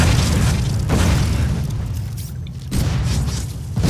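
Logan's Gun fires in Borderlands 2, heavy booming blasts rolling out in repeated loud explosive bursts, dense and close with rumbling low end throughout.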